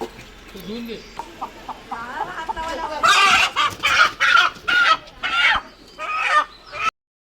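Chickens cluck and squawk in a run of loud, close calls, with some voices talking faintly early on.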